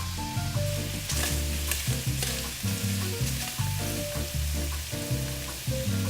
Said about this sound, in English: Let's toss in our garlic, moving it around constantly so that it doesn't burn.